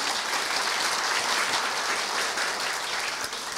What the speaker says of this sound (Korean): 박원철 부장님께 다시 한번 큰 박수 부탁드립니다.